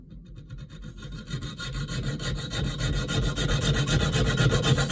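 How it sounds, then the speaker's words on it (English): A junior hacksaw cutting through a roller blind to reduce its width, fast rhythmic rasping strokes, close and steady, building in intensity over several seconds. "And I'm just using my junior hacksaw."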